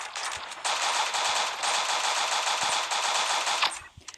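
Rapid rifle fire from the Pixel Gun 3D game crackles in a sustained stream of quick shots for about three seconds, loud and alone with no talking.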